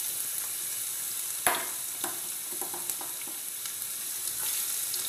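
Ginger fries in hot oil for a dry ginger chicken dish, a close, steady sizzle with a sharp knock near the start and a few light stirring taps after it.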